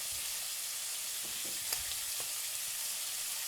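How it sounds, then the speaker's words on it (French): Onions frying and caramelizing in a pan, a steady soft sizzle with a few faint crackles and pops, fairly quiet and uninterrupted. "Les oignons sont en train de caraméliser"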